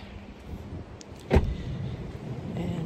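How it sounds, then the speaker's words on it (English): A car door shuts once with a single sharp, close thud midway, set against quiet outdoor background noise. "let's go over and close my car doors"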